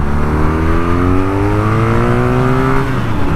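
BMW R nineT motorcycle engine revving up past 5,000 RPM, loud and close, with steady harmonic engine tones climbing in pitch throughout before easing slightly near the end.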